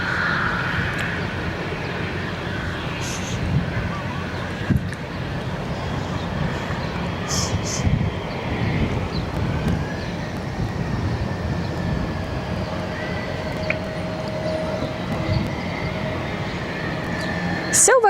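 A Cessna Citation XLS business jet departs Barcelona, its sustained engine rumble and hiss rolling on at moderate distance, with people talking intermittently over it.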